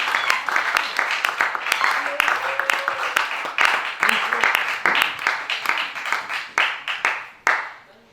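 A church congregation claps and cheers during a Sunday worship service, with dense, uneven bursts of applause and shouts close by that surge and fade repeatedly, with voices mixed in.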